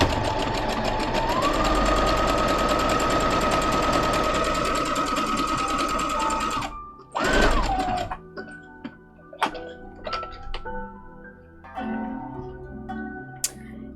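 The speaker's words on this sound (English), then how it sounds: "I'm sewing the little blue appliques" A sewing machine stitching small blue appliqué pieces for a cosplay costume runs in a steady loud whir for about seven seconds, stops, then gives a brief burst before scattered clicks and handling noises follow.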